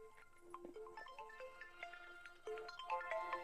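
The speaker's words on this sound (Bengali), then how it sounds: "উফ এখন আবার কে ফোন করছে" A mobile phone ringtone plays faintly in a quiet room as a continuous melodic sequence of bright electronic tones.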